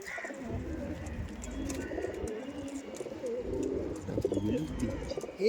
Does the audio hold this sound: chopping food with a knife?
no